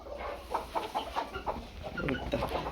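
Free-range village chickens cluck in a series of short, soft calls over a low background hum, fairly close but not loud.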